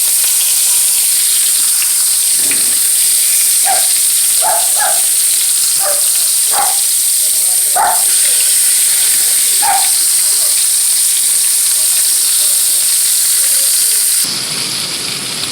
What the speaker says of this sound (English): So here we brown in the fish a little bit, right?